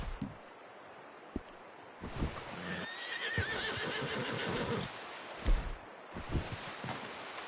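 A horse in Red Dead Redemption 2 whinnies with a wavering, drawn-out call, accompanied by hoof clops and rustling, with a sharp thump near the end.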